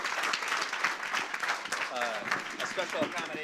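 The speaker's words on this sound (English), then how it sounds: "So if we can give boys Alpine Ski one more last round of applause." Audience applause for a boys Alpine ski team at a school board meeting: steady, dense clapping from a crowd that carries through the whole stretch, with voices and cheers mixed in.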